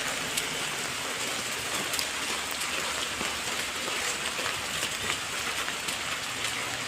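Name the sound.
rain falling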